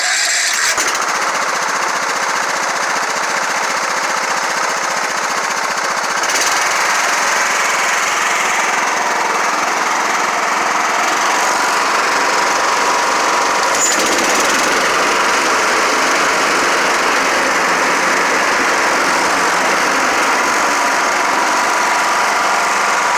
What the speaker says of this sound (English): All that rattling you hear is that hood shaking